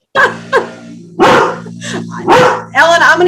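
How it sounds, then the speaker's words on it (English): A dog barks outside during a call while lawn mowing goes on nearby, giving several loud, separate barks with short pauses between them and a steady engine drone underneath. "you're going to hear a dog bark"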